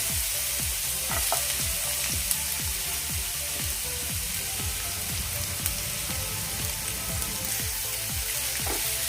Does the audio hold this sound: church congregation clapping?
no